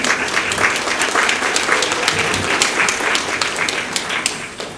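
At a residents association's annual meeting, an indoor audience gives a steady round of applause to welcome a speaker, the many overlapping claps staying full and even throughout before softening slightly at the end.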